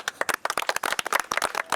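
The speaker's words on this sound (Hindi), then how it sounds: "ताली तो बनती है" Crowd of people applauding soldiers at an Indian Army border post during a Diwali celebration, brisk uneven claps close by, steady and lively throughout.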